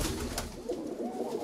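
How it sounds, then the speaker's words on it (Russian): A Sumy fancy pigeon coos in a pigeon loft, giving a short, close run of soft throaty coos with no talking. "Хороший голубок."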